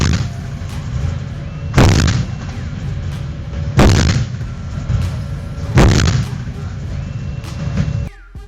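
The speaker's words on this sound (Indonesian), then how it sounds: "Meriam utama, OTO Melara 127 mm Vulcano yang mampu menembak dengan amunisi berpemandu jarak jauh." An OTO Melara 127 mm Vulcano naval gun fires three heavy booming rounds about two seconds apart, each a loud blast with a rumbling tail over steady background noise.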